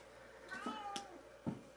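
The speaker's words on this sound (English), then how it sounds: "If you hear a cat, forgive me." A cat meows a few times indoors during a poetry reading, the calls fairly faint and short, rising and falling in pitch against a quiet room.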